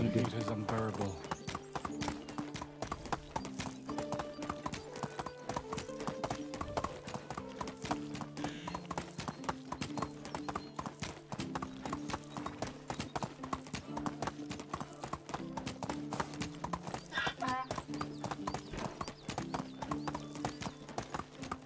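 Donkey hooves clip-clop steadily in the medieval life-sim game Medieval Dynasty, a fast, continuous rhythm running throughout over game music and occasional talk.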